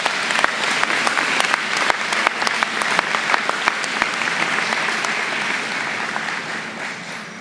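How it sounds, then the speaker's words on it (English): A crowd at a high school graduation ceremony applauds, a dense burst of clapping from many hands that stays strong and then gradually tapers off toward the end. "So graduates, please give your family and your loved ones a round of applause."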